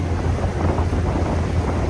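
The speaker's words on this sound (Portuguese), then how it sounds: "O barco se aproximou aqui, ó, pra fazer alguma coisa." On the Amazon river, a small boat nears a riverboat amid a loud, steady roar of wind buffeting the microphone, engine rumble and rushing water, with no speech.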